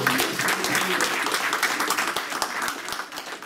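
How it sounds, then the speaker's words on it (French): An audience applauding, dense continuous clapping throughout, loud and close, with a few voices mixed in. "Merci encore, on va applaudir Stéphane Simonet."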